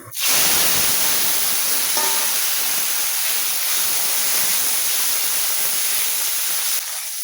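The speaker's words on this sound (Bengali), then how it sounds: "টমেটো হালকা করে ভেজে নিলাম" Tomatoes hitting hot oil with cumin seeds, a sudden loud hiss that settles into a steady, close, broad sizzle and continues unbroken, with no voices.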